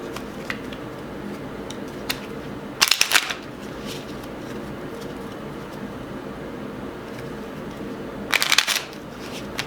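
Tarot cards are lightly shuffled in two brief riffling bursts, separated by a long stretch of steady room noise with a few soft taps.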